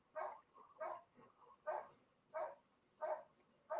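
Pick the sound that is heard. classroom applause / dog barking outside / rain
dog barking outside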